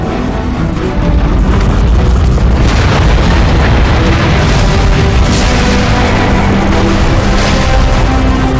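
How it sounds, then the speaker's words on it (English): A vast, roaring rumble swells and holds as the neutron gun powers up in Transformers: Fall of Cybertron, loud and dense with booming bursts throughout. "The neutron gun is activating."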